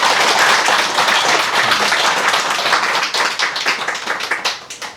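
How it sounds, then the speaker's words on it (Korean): An audience claps together at a meditation talk in Damyang. The applause is loud and close at first, then thins into scattered separate claps before it stops. "박수 한번 쳐주세요."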